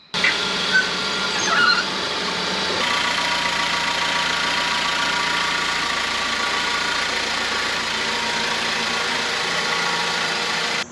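A 2017 Ford Focus after a 1.0L-to-2.0L engine swap idles outdoors with a steady, mid-pitched hum and slight vibration, running continuously throughout after a brief louder burst at the start.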